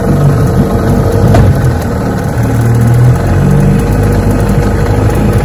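A 1959 Johnson 5.5 HP outboard motor runs on a bayou, shifted into reverse, giving a loud, close, continuous buzzing drone whose pitch wavers slightly, with no one speaking.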